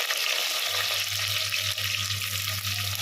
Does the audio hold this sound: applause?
no